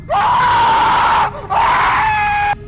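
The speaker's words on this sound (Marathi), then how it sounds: "इतक्यात त्यांना मागील बाजूस दत्ताचा ओरडण्याचा आवाज ऐकू आला." A man's loud, drawn-out scream in a horror story scene, two long anguished cries separated by a short breath, close and alone.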